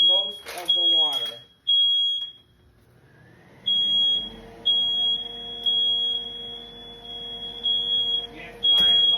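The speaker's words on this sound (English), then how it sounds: "Yes, my alarms are sensitive. They let me know exactly what's going on around here." A sensitive home smoke alarm beeping while someone cooks, a loud, piercing high-pitched tone sounding in repeated long bursts with brief gaps, alongside a low kitchen hum and a person briefly speaking.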